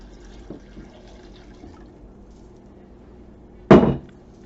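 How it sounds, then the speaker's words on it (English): Four cups of water poured into a pot of raw potatoes land in one brief, loud splashing rush near the end, after a stretch of quiet kitchen background with a faint knock early on. "I'm going to add my water. This is 4 cups of water."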